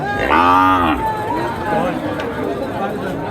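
Sahiwal heifers at a busy cattle market, one loud, close moo near the start followed by fainter lowing, over crowd chatter and talking.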